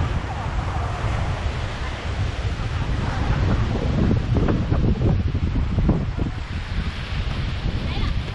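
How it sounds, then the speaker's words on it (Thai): Strong wind buffets the microphone while heavy surf roars and breaks on Hat Chom Phon beach near Chao Samran in Phetchaburi, Thailand, forming a loud, continuous wash with rising surges of waves. "ลมแรงเลยครับสวยมากเลยครับทะเลในคลื่นแรงทีเดียวครับ"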